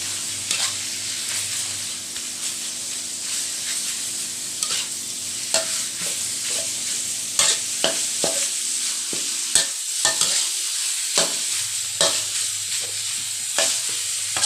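Pork frying in oil for Isan-style jaew bong, with a steady close sizzle and repeated scraping and clacking as it is stirred around the pan, no talk.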